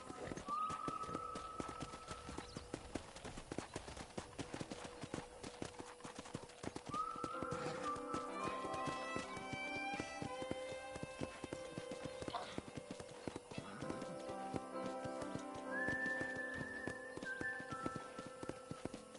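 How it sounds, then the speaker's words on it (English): Steady clip-clop of horse hooves at a trotting rhythm from the video game Red Dead Redemption, with occasional whinnies and melodic chimes layered over a continuous background. "let's see if you can still ride a horse"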